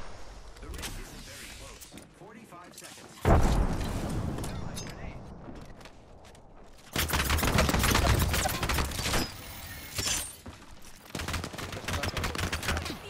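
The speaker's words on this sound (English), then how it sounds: "I'm being shot at." Bursts of gunfire in a battle-royale shooter as the player comes under fire, dense rattling volleys arriving in clusters with quieter gaps between, loud and close, mixed with game effects and some talk.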